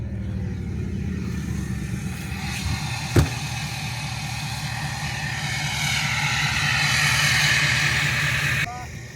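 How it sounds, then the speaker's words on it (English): Engine-driven generator running steadily beside a camper, a continuous low droning hum that swells slightly toward the end, with one brief sharp knock partway through. "Oh, the generator."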